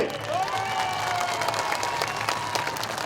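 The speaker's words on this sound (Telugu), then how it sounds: "గట్టిగా చప్పట్లు కొట్టి" A large outdoor crowd at a municipal election campaign rally claps and cheers in a dense, continuous wash of applause, with a shouting voice or whistle sliding through the noise.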